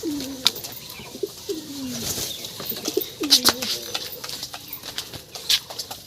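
Pigeons coo in soft, repeated low calls, with faint clicks and rustling around them.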